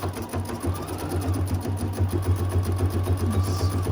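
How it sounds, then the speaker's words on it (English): A computerized embroidery sewing machine stitches a bee design at a moderate, unhurried speed, giving a steady close hum with rapid rhythmic needle clatter throughout and no talking. "Going along, stitching on the bee. I don't have my machine set to stitch very fast."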